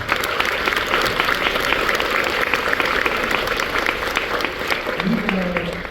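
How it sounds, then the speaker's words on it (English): Sustained applause from an audience at a graduation-style ceremony for an EOP class, many hands clapping densely and evenly at a strong level throughout, with a brief murmur of voices near the end. "Let's give EPA another round of applause."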